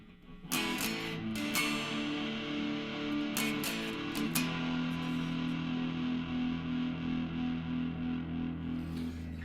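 An electric guitar runs through a drive pedal with a built-in compressor, giving a distorted, compressed tone. Sustained chords ring out with strums and a long, even sustain, loud and alone.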